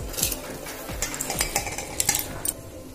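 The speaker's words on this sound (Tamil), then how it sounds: "இப்ப நம்மளோட அரிசியை போட்டுக்கலாம். அரிசி பருப்பு ரெண்டையும் போட்டுக்கலாம்." Rice and lentils tipped into a pot of heating water for venpongal, with clattering pot and utensil sounds, scraping stirs and a faint sizzle, close and steady with no talk.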